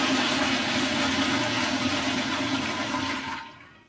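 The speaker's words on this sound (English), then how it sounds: "I'm gonna flush it." A prison cell toilet flushes with a loud, close, continuous roaring rush of water that holds steady for about three seconds and then drains away quickly, with no talk.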